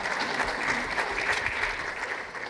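An audience at a French Olympic committee event applauds steadily, a dense close wash of many hands clapping throughout without a break.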